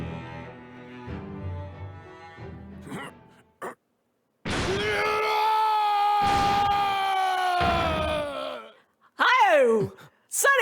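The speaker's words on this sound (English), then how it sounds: "That was a scream." Screams and anguished cries in the video game The Great Ace Attorney, a pained voice rising in long, loud wails broken by short gaps, ending in a sharp shriek.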